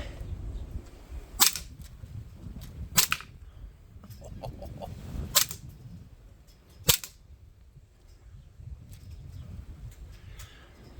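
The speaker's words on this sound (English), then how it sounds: "I'll show you this blowback from the side." A Springfield Armory XD(M) 3.8 Compact CO2 BB pistol with blowback fires four sharp, loud snapping shots spaced a second or two apart, each with a brief mechanical clack, over a low background rumble.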